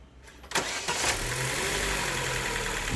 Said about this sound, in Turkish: Şimdi arabanın marşına basalım.